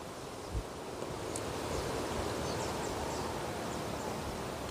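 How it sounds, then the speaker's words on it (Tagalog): Strong wind gusts over an outdoor mountainside, a broad steady rushing noise with a brief thump near the start, moderately faint and with no voices. "Strong wind."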